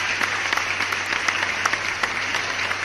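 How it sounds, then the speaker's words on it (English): An audience claps in a steady, moderately loud burst of applause, with individual hand claps standing out against the continuous patter for a few seconds. "So a quick applause for you guys."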